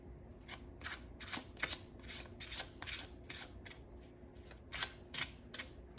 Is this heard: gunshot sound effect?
no